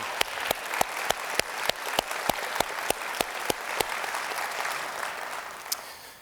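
Applause for Mr. Lehigh and the Denfeld Jazz Band at the Duluth State of the City Address, a dense roomful of clapping with sharp individual claps standing out in rhythm, steady for most of the stretch before thinning slightly at the end.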